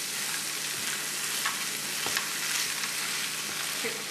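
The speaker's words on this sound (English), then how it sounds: "You're going to mix these together for about 5 minutes," A mashed potato mixture is stirred constantly in a hot pan for a savory vegetarian potato pie, giving a steady close sizzle with soft scraping strokes and no talking.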